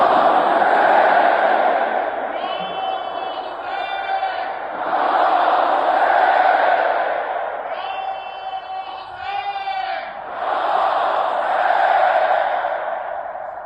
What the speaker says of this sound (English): You can hear the chants there, Ya Hussein.